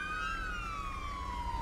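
Ambulance siren in GTA V with the LSPDFR police mod, a loud, close wailing tone that slides slowly downward in pitch over a low engine rumble, with no speech.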